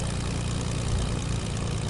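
An airplane engine in the Fortnite video game hums at a steady low drone with a propeller-like buzz, loud and continuous for a short stretch with no talk over it.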